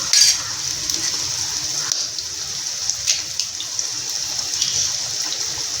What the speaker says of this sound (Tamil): எல்லா முட்டைகளையும் நம்ம உடச்சி இப்படி சேர்த்துடலாம்.